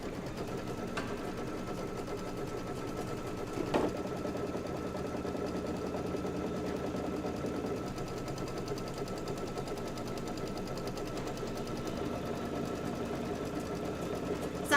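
An embroidery machine runs a placement stitch for quilt batting, a steady close mechanical whir and rapid needle chatter that holds through the whole stretch, with one brief knock partway through.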